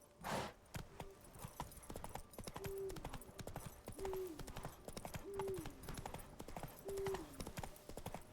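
Video game horse Roach galloping, with fast rhythmic hoofbeats under a few short whinnying calls spaced through the run, with no talk.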